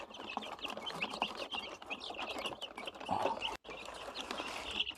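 Free-range village chickens cluck and call in a busy farmyard, a steady layer of bird chatter with scattered louder clucks over a constant background hum.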